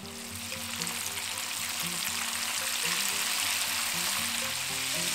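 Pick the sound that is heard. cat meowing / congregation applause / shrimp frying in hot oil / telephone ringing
shrimp frying in hot oil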